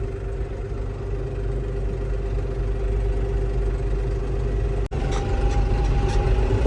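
Tractor engines idle and rumble at a January 26 tractor protest march in Talwandi Bhai, Ferozepur, as a steady low drone. A brief dropout sits near the end, followed by a slight rise in clatter, with no talk.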